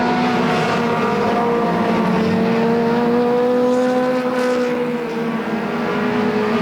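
Mini stock race cars circle Flamboro Speedway during a 25-lap feature, a loud continuous drone of several engines with pitches sliding up and down as cars pass and accelerate.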